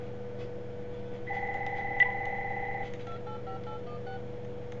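A SIP softphone dials out through a Cisco gateway on an Asterisk trunk, giving a short run of steady dialing tones, then a quicker series of brief beeps, faint and close with no talking.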